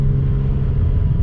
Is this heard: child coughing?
no